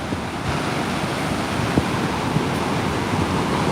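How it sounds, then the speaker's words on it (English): Loud, roaring ocean surf on the Oregon coast at a razor clamming beach, a constant broadband wash of breaking waves with some wind rumble on the microphone, no talking. "That ocean is loud."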